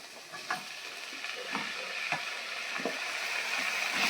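Three finely chopped tomatoes sauté with browned onions in a pan for paneer butter masala, giving a steady close sizzle with occasional utensil stirring scrapes.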